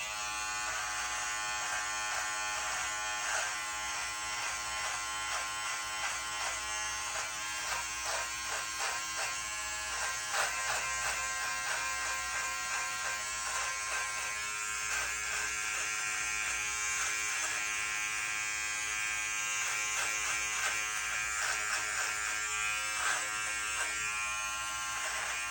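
An electric beard trimmer buzzes continuously and up close for a long stretch while a beard is trimmed at home, its tone wavering slightly as it moves over the hair.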